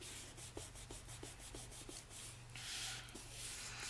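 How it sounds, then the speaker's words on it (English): Paper being burnished down onto a craft journal with steady, close rubbing strokes, a soft scraping rhythm over a low background hum that grows slightly louder toward the end. "Just going to burnish that down real well"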